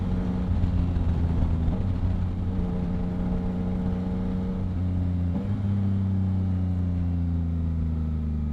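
A Yamaha MT-09 three-cylinder motorcycle engine with a Two Brothers exhaust runs steadily with a low, throaty exhaust drone and harmonic hum, the pitch dipping and shifting slightly as it idles and revs gently.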